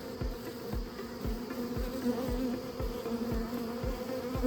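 A small cluster of honey bees buzzes inside a nuc box, making a steady, close hum with soft repeated low thumps underneath and no voices.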